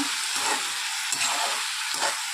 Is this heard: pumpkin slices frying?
yes